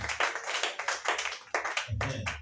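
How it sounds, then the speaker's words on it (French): Congregation at a church service applauding in rhythmic bursts of hand claps, fairly close and steady for a couple of seconds, ending with a brief low rumble of voices. "Acclamez Jésus ici."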